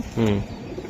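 Racing pigeons cooing at a breeder's loft, one short throaty coo close by, followed by quieter background murmur.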